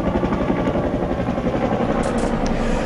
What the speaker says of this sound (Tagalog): Ang mga helicopter ng Philippine Air Force na dati-rati mataas ang lipad dahil sa panganib ng sniper fire.